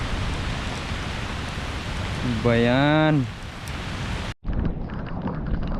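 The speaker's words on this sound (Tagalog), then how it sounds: "tapos dito sa spot umuulan" Rain falls steadily outdoors at a fishing spot, a constant broadband hiss throughout; a voice briefly speaks over it midway, and a short dropout interrupts near the end.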